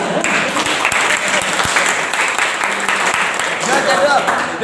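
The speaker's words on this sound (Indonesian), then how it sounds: "Dan tepuk tangan untuk daerah." Audience applause at a workshop opening, a dense crackling wash of clapping under a voice speaking over it, moderately loud throughout.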